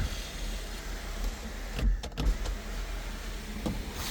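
A Hyundai Ioniq's sunroof motor whirs briefly close by inside the car, with a couple of soft clunks as the panel moves, against a quiet cabin hum.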